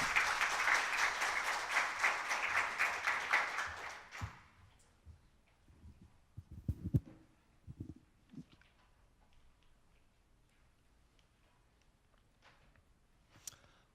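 A private blockchain meetup audience gives a loud round of applause to welcome a CTO to the stage, lasting about four seconds before cutting off into quiet room noise and a few faint thumps.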